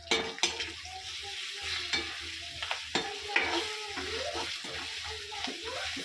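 Sliced chillies being fried with coriander-cumin powder for Kathiyawadi vagharela marcha, a close sizzle under repeated stirring scrapes and spoon knocks against the pan, with a few sharper clacks scattered through.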